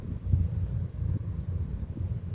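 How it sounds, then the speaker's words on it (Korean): A cool sea wind blows across a pebble beach on the Boryeong coast, a low buffeting rumble against the microphone that stays steady and close with no voices. "시원한 바람이 불어옵니다."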